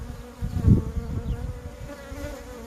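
Honeybees in a hive holding two queens give off a steady, dense buzzing hum, close and fairly loud, with slight swells in intensity and no voices.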